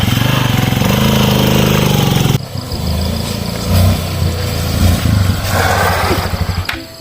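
Motorcycle engine running steadily and loudly nearby, a continuous low rumble that shifts slightly in level partway through, with no talk over it.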